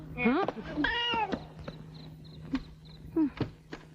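Two people imitate cats, trading rising and falling meows back and forth in quick exchanges, close and fairly loud over a quiet background with a steady low hum.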